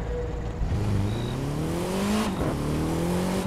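A Volkswagen Golf GTI in The Crew 2 launches from a standstill, its engine note climbing steadily through the revs with a brief dip at a gear change before pulling up again, loud and continuous with no talking.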